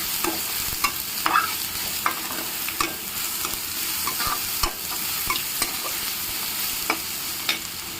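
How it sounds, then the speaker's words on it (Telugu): Turmeric is stirred into tomato and onion frying in a pan, giving a steady sizzle broken by repeated scraping and clicking of a spoon against the pan at an irregular pace, no voices. "పసుపు వేసి కలుపుతున్నాను."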